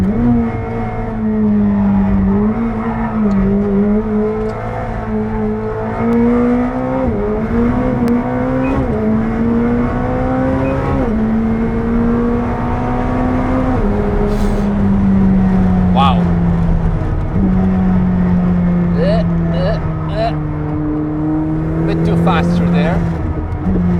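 A McLaren 765LT howls hard on cold tires around the Nürburgring, its engine note climbing through repeated upshifts with loud, sustained acceleration and brief pops near the end, with a voice talking over it.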